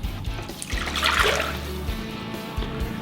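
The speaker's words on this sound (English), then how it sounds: "we're gonna add a cup of lukewarm water to this." A cup of lukewarm water poured into a stand mixer bowl for pizza dough, a short close splashing pour that swells and then fades.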